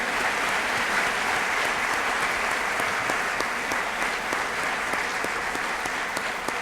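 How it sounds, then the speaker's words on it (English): Sustained applause from a sizable crowd, even and continuous clapping throughout with no pauses. "Another round of applause for Kathy."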